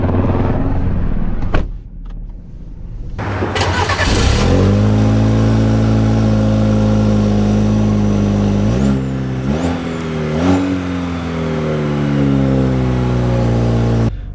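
A 2025 Chevy Colorado Trail Boss engine roars up from a start and accelerates hard, loud and steady with rising pitch and a couple of brief gear-change dips, heard up close with no talk.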